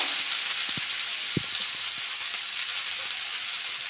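Ginger paste fries in a pan of oil with a steady, moderate sizzle, broken by a few soft knocks as it is stirred, close by with no voices.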